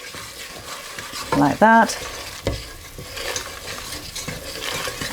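Spices being stirred in a pan for dal makhani, with brief sizzling bursts near the middle amid soft scraping and kitchen noise, and a short spoken remark.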